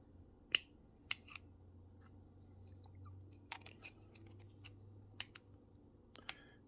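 Sharp snips as small metal clips are cut off an old, brittle scale model car with cutters, several crisp clicks spaced irregularly over a quiet room background.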